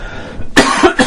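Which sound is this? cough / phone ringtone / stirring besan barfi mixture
cough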